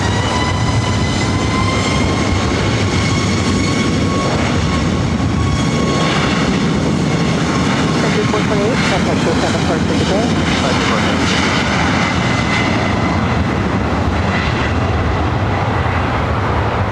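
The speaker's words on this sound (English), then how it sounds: "This flight heading to SFO, flight 1770, the 737 MAX 8." A Boeing 737 MAX 8 takes off at LAX, a loud sustained engine roar with whining tones running throughout, and a voice talks over it.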